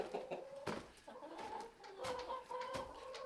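Several chickens of four different breeds cluck and murmur inside a winter chicken house with seven coops, short calls overlapping with sharp scratches and rustles, close and fairly quiet, with no talking.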